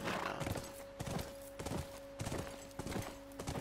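Horse hooves clip-clop at a steady riding pace in The Last of Us, evenly spaced thuds on hard ground, fairly quiet under a constant low tonal hum of game ambience.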